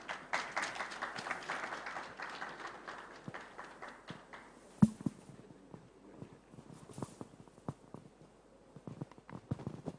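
Applause from an audience at the launch of a report on ten years of petroleum revenue management in Ghana, fairly faint and thinning after the first few seconds into scattered claps and shuffling.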